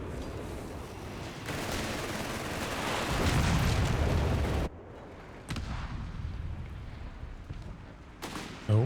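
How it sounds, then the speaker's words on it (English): Howitzer artillery fire dropped on a base in the Company of Heroes 3 strategy game, a dense rumbling barrage of booms and blasts, loud and sustained, then cutting to quieter scattered battle sounds. "Havoc drops some base howitzer fire."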